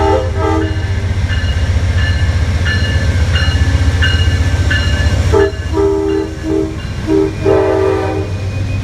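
A train rolls through Fullerton station with loud, steady rumble and rail clatter, sounding repeated horn blasts in short bursts, close and powerful throughout.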